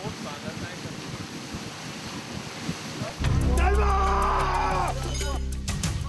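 A boat motors toward a military training ground, its engine starting loud and close with a low steady drone over wind and water noise, after a stretch of gusty wind.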